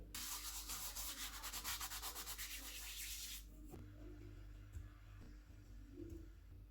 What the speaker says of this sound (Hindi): अजवाइन को हाथ में मसल के डालेंगे